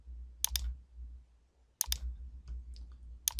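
Quiet mouse clicks while working in the Chrome browser, heard as a few sharp double clicks spaced apart against near silence.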